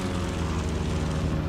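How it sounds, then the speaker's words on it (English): The P42 aircraft engine in Microsoft Flight Simulator 2024, voiced by the Echo 19 sound pack, gives a steady, dense propeller drone that stays even and loud throughout with no other sounds. "What a plane. That's that Echo 19 sound pack"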